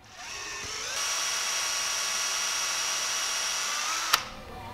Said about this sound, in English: Then we'll drill the hole. Big old hole. Think it's gonna be a half inch. Already in the drill.